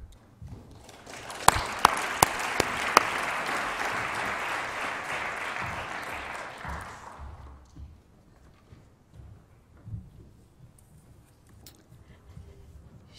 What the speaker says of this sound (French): Je vous demande d'applaudir Monsieur Pascal Bruckner.